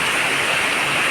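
Heavy monsoon rain falling in Kerala, a dense, steady hiss that stays level and loud for the whole moment, with no voices.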